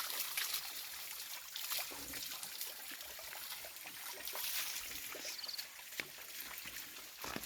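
Spring water trickles steadily from a natural source at a rural Nepali spot, a continuous bright splashing dribble with faint rustling behind, heard alone with no voices.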